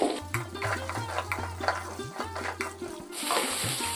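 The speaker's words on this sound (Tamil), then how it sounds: "வெண்டைக்காய் சேர்த்து வெண்டைக்காயில் இருக்கக்கூடிய அந்த வழுவழுப்பு தன்மை போகும் வரைக்கும் நம்ம எண்ணெயில் வதக்கிக்கணும்" Okra (lady's finger) sautéing in hot oil in a pan, with a close rhythmic scrape and clatter of a ladle being stirred over a low hum, and the sizzle swelling near the end.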